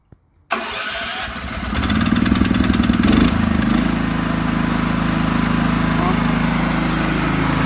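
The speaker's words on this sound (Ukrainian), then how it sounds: "Так, знову запрацював генератор." Power generator starting up with a brief catch, then settling into a loud steady engine drone that runs on without a break.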